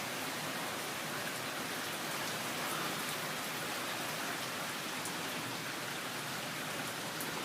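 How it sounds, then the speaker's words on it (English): Steady rain falling outdoors, a dense, even hiss of drops with no pauses and nobody speaking. "it's still raining"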